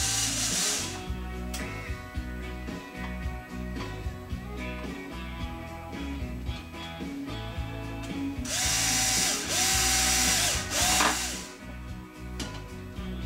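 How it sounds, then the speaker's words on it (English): A drill bores out a plastic servo horn for a clevis on a 50cc model aircraft build, its motor whining close by in short bursts with changing pitch as it starts, slows and speeds up again. "I start off by drilling my servo horn out where it will accept my clevis."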